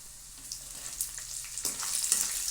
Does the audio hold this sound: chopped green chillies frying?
yes